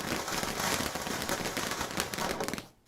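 Fireworks crackle continuously in a dense burst of rapid pops and fizzing, loud and sustained, ending abruptly.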